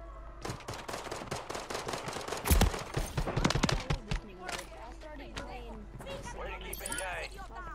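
Rapid gunfire in Call of Duty Warzone Rebirth Resurgence quads played on PS5, dense bursts of close automatic shots peaking midway, then giving way to voices talking over the game audio.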